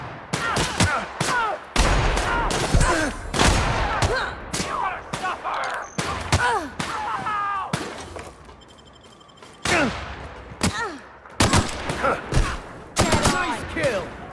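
Gunfire in The Outer Worlds video game, a battle against marauders: repeated loud gunshot bursts come in uneven clusters through the whole stretch, with a short lull midway, and a voice speaks between shots.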